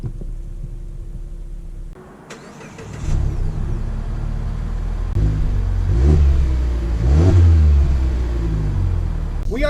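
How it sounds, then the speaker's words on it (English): A 2019 Mazda CX-9 SUV engine starts after a quiet moment, then a mid-range engine rumble builds and surges as the SUV pulls away, revving in a few rising swells. "let's take the 2019 CX-9 out for a test drive just to see how it drives"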